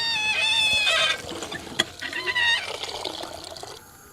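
Water is poured into leftover rice in a kitchen, a steady splashing, gurgling pour that eases and trickles off near the end, close and unaccompanied.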